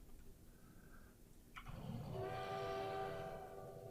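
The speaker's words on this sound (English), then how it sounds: "It whistled at me, said, hey, I'm happy." Steam-style train whistle from the Transport Fever railway simulation game, a single sustained blast rising after a faint earlier tone, moderately quiet with rumbling rail noise beneath.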